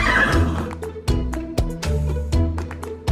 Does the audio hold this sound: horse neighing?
yes